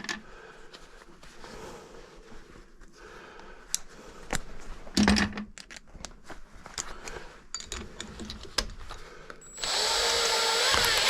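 Power drill backing out gutter bracket screws, intermittent short whirs and clicks amid handling noise, ending in a louder sustained high-pitched spin.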